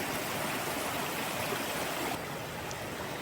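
A mountain stream on a spring trail in Maine rushes in a steady, dense wash of flowing water, close and constant with no breaks.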